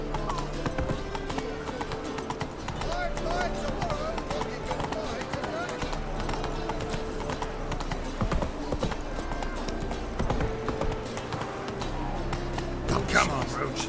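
Horse hooves clip-clopping steadily at a gallop in the Witcher 3 video game, a continuous rhythmic drumming mixed with game music and effects, with a brief whinny near the end.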